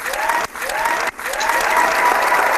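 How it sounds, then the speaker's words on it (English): Applause sound effect played during a casual gaming talk show, a steady wash of clapping that runs throughout, briefly dipping twice as it restarts, loud and without talk. "Someone do the clap sound."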